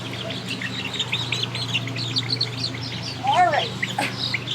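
Baby chicks chirp in a thin, busy chatter over a steady low hum, with one louder call rising above the rest near the end.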